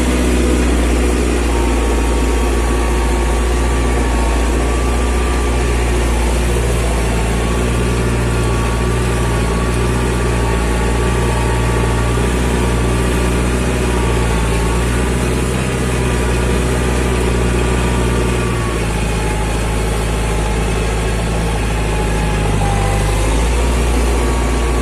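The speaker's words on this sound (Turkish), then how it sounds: "Egzoz sesi zaten çok müthiş." An imported European tractor engine runs continuously with a deep, rumbling exhaust, steady and close throughout, with no talking.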